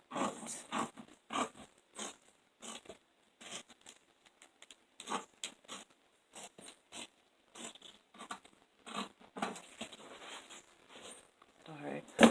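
Fabric for a simple house dress with sleeves and pocket being cut with scissors, close and crisp, a long run of short snipping and rasping strokes in irregular bursts with brief pauses between.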